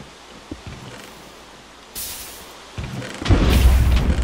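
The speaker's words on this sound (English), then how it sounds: "I heard an explosion. See those? That was lightning." Lightning thunder explosion in the Minecraft Sky Factory 2.5 video game: a broad booming burst arrives mid-clip, then a louder rumbling roar builds and holds through the end over faint background noise.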